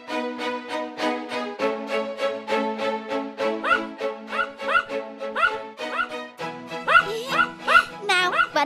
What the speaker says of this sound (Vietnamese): Dũng, em có thể bảo con cúng ngừng sủa không? Ồn ào quá